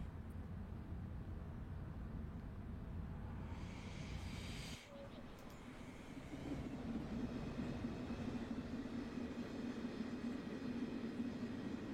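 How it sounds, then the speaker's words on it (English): Unpowered railroad cars roll along the rails on a line toward Mountain View, a steady close rumble and hiss of wheels on track that dips briefly and then continues, with a faint high whine. "Like, even the train rolling on the rails here, non-motored cars, sounds great."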